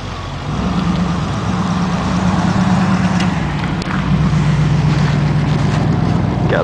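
A low American car engine idles steadily at a town cruising day, a deep rumble holding constant for several seconds with slight shifts in pitch and no talk over it.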